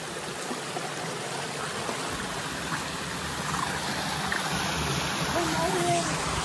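A waterfall stream at the Negheribil picnic place near Merapani, Golaghat, gives off a continuous close rush of flowing water. The sound stays fairly loud and even from start to finish.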